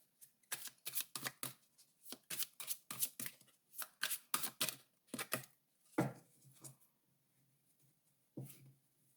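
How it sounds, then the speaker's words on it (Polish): Tarot cards are shuffled up close in a run of brisk, crisp riffling bursts separated by short pauses, with no one talking. "I wylosuję karty dla każdej z grup."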